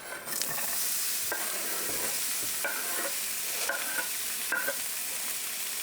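Chopped onions frying in a preheated pan over medium-high heat, a dense continuous sizzle with periodic scraping strokes of a spatula every second or so, close up and without speech.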